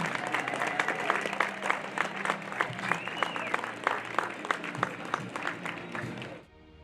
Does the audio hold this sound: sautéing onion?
no